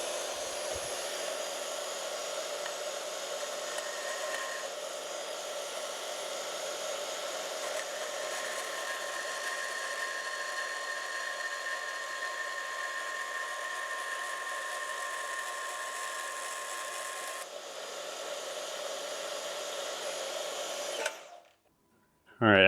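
A power tool slicing a slit into a thin metal shim for a Datsun 280Z fuel tank: a loud, continuous high whine runs for about twenty seconds, then cuts off abruptly, with a brief clatter at the end.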